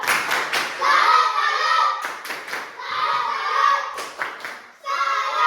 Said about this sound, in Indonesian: Kasih tepuk salut, tepuk salut.